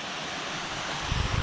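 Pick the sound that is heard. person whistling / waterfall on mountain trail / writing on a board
waterfall on mountain trail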